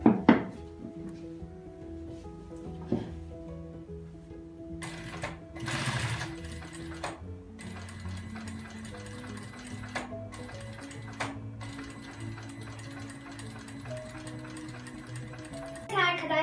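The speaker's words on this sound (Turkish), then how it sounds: "bu eski çantamızı dikiş yerlerinden söküyoruz ve bu parçamızı dikmeye başlıyoruz." Sewing machine stitching an upholstery fabric piece for a bag, running in fast mechanical bursts with pauses between, close and moderately loud.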